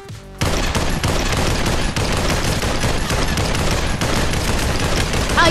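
Dense, continuous rapid gunfire in a VR shooter game, loud and close, forming an unbroken volley of shots that runs for several seconds after a brief quieter start.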